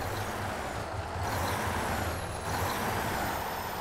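An off-road truck in the driving game Spintires grinds along in low gear, giving a steady, loud engine roar with a continuous rumble and a faint high whine, without talk.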